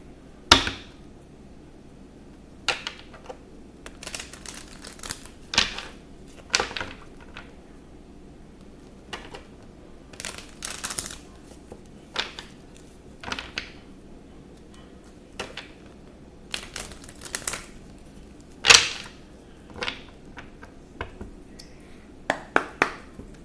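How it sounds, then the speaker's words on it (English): Soft, irregular riffles and taps of tarot cards being shuffled by hand, close by, with quiet pauses between bursts. "Alright, I'm going to shuffle."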